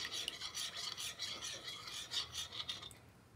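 A homemade gel air freshener mixture being stirred, giving a soft, steady scraping and swishing in quick regular strokes, close and faint, with no talking.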